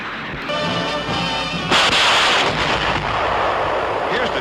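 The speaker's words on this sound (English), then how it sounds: "the rockets can be shot singly, in groups of 6, or all 60 in a continuous stream" A Sherman rocket tank fires a barrage of rockets, a loud harsh roaring rush that swells into a sustained booming blast and rumble, heard from a distance.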